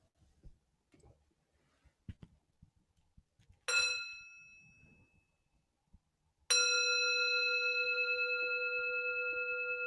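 Meditation bell struck twice during a Dharma talk: first a light tap that fades quickly, then a full, clear strike whose pure ringing tone sustains and slowly decays, after quiet rustles in the room.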